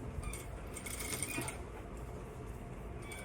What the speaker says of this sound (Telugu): చూసుకున్నాక ఒక స్టిచ్ వేసుకుందాం